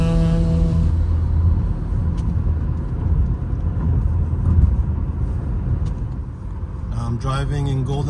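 A car drives down Golden Lantern toward Pacific Coast Highway in Dana Point, Orange County, California, during a heavy rainstorm, with a steady broadband rumble of tires and road noise and a few brief sounds near the end.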